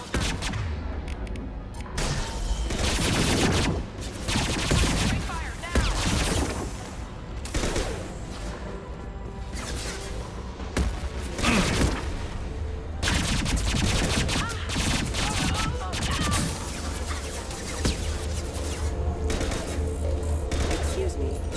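Dense, continuous gunfire in the video game Mass Effect 2, with overlapping rapid bursts and sharp impacts filling the whole stretch, loud and close, with voices talking over the combat.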